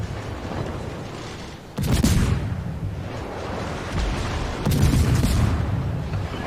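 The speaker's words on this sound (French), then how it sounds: "Ça, c'est des obus de Shima." Naval shells from a Shimakaze destroyer exploding in World of Warships, heard as two heavy booms a few seconds apart over a continuous low rumble of battle noise.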